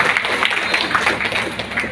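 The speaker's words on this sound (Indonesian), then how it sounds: "Tepuk tangan dulu untuk PAPSI" Clapping from an audience at a village officials' inauguration ceremony, a dense, continuous patter of many hands at moderate loudness with faint voices underneath.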